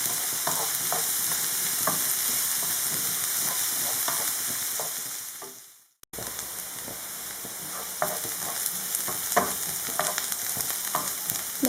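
Onion, garlic and spinach sauté in a pan for spinach and goat cheese briouates, giving a steady close sizzle with scattered stirring scrapes, briefly cut to silence midway before the frying resumes.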